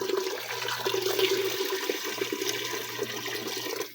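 Hot water pours into a pot for macaroni and vegetable soup, a continuous rushing splash heard up close that holds steady and then tapers off at the end.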